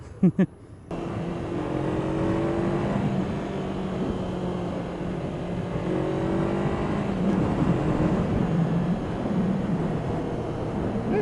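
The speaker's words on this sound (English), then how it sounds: "Let's check engine braking again." A 2017 Honda CBR 500R motorcycle engine braking while riding, a steady mid-pitched engine drone with slowly falling revs under wind noise, close and continuous after a brief click at the start.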